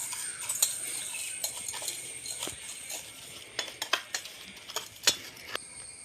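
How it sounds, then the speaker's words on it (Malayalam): A spoon stirs a snack mixture seasoned with pepper powder in a bowl, giving a run of light metallic clinks and scrapes at an uneven pace, close by and fairly quiet, with no talking. "നമ്മൾ സ്പൂൺ എടുത്തിട്ട് മിക്സ് ചെയ്യാം."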